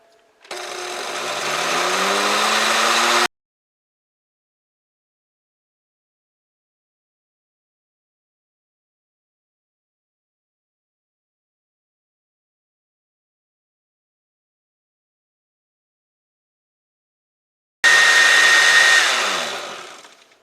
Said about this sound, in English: this blender will make a lot of noise